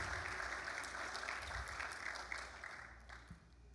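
A church congregation at a Sunday service bursts into dense, steady applause from many hands that holds, then thins and fades toward the end.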